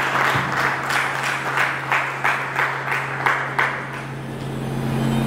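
An audience applauds in bursts of clapping that swell and fade in a rough rhythm, with a steady hum underneath and no talking.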